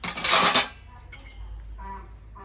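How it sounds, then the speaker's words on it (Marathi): Dishes being washed by hand at home after a meal, with a loud clatter of metal utensils and plates at first, then quieter scattered clinks and rinsing sounds. "नानी भांडी घासायला लागल्या बघा."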